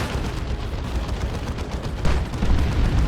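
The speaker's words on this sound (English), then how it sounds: "Holy crap, that was a massive boom shot." A looted Ork tank fires its boom shot in Dawn of War 2, a dense barrage of booming blasts and battle noise throughout, with a heavier hit swelling near the end.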